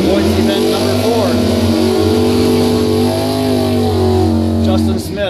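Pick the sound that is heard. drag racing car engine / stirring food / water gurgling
drag racing car engine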